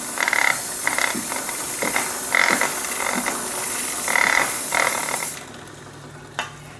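Chain wax is sprayed onto a motorcycle chain in a quick series of short hissing bursts, about seven close, bright puffs with brief gaps between them.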